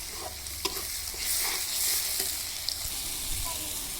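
Spice paste of ginger, garlic, cumin and dry chilli sizzles steadily in hot oil in a pan, with a spoon scraping and stirring through it in close, continuous bursts.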